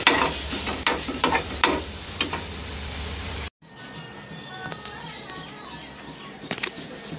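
Grated paneer being stirred in a pan for a paratha filling gives close, clattering scrapes and a light sizzle, then a quieter stretch with faint kitchen clinks and a few more scrapes.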